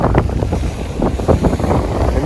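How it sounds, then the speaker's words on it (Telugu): Strong sea waves crash at Dhanushkodi beach, loud and close, with surging wash and heavy wind buffeting the microphone in uneven pulses and no talking. "నిజంగా గట్టిగా కొడుతున్నాయి అలలు"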